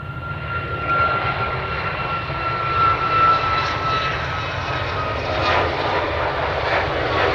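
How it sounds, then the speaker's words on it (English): An Air Canada Boeing 737 Max 8 jet at Edmonton International Airport gives a steady, broad engine roar that holds fairly loud for the whole stretch, with no voices. "There it is, Air Canada Boeing 737"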